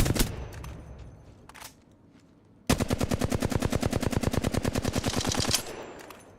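Rapid automatic gunfire in the game Apex Legends, a few separate shots first, then a long fast burst of evenly spaced, loud, close shots lasting about three seconds before stopping, with no talk.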